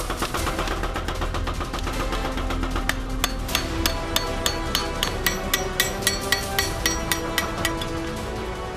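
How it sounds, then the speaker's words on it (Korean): A blacksmith hammers a hot hoe blade on the anvil to bend its angle, sharp ringing metallic strikes in a steady rapid rhythm over forge background noise, loud and close. "호미의 날과 자루의 경계를 찍어 누른 후 순식간에 꼬부려 망치질로 각도를 잡는 것이 관건."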